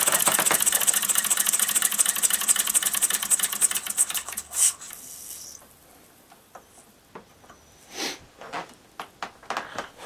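A gas-fired Mamod SP7 stationary steam engine running, a loud, rapid mechanical chatter that stops partway through, leaving quieter scattered clicks and knocks.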